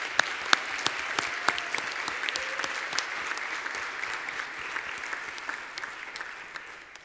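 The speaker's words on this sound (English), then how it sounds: "We have one more round of applause for all of our CAPS Award winners." An audience at a Board of Education meeting at a high school applauds the CAPS Award student winners with dense, sustained clapping that fills the room and slowly fades toward the end.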